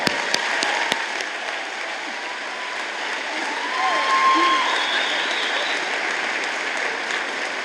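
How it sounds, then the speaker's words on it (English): Sustained audience applause fills a convocation ceremony hall at BCIT, steady and fairly loud throughout, swelling slightly midway with scattered individual claps at the start. "Let's give her a round of applause."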